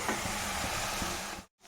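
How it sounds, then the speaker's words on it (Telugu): Gongura leaves fry in a hot pan with a steady, close sizzling hiss and faint spattering crackles, then cut off briefly into near-silence before the sizzle returns. "గోంగూరని చక్కగా ఫ్రై చేసుకోవాలి."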